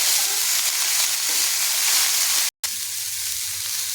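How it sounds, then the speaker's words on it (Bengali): Salted mixed vegetables fry in a pan for breakfast while being stirred, a dense, steady sizzle that drops out for a moment before resuming. "সবজিটা আমি একটু নাড়াচাড়া করে নেব যাতে সবজিটা হালকা ভাজা ভাজা হয়ে যায়"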